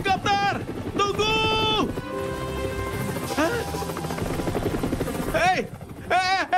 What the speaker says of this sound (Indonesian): Hei, tunggu helikopter!